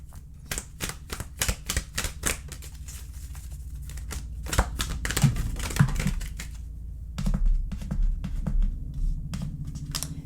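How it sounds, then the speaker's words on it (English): Cards from an oracle deck shuffled by hand in quick, crisp bursts of flicking and clicking, close up and broken by short pauses, with no talking. "I'm going to be shuffling some cards from this oracle deck over here"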